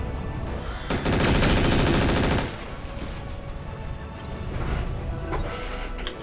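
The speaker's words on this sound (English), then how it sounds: "Just chill out on the machine gun fire because I'm actually running low on ammo." Machine gun fire rattles in the mech combat game RogueTech, with a loud, rapid sustained burst near the start followed by scattered quieter shots and mechanical clatter.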